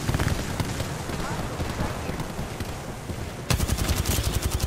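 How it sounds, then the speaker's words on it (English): Gunfire from a teammate in Apex Legends, rapid automatic bursts that run throughout and grow louder and sharper near the end, with voices talking over the shooting. "Oh, Josh, you shouldn't have shot."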